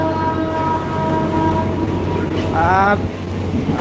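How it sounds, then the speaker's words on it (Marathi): A train stands at Rajuri railway station on the Ahilyanagar to Beed line, giving a loud, steady rumbling hum with a short, rising tonal blast near the end. "राजुरी रेल्वे स्टेशन पार्क झालेलं आहे मित्रांनो"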